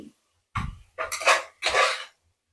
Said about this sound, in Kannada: ಸೊ ಈಗ ಎಲ್ಲ ಅದನ್ನು ಹಾಕಿ ಚೆನ್ನಾಗಿ ಲಕ ಲಕ ಲಕ ಲಕ ಅಂತ ಅಲ್ಲಾಡಿಸಿ.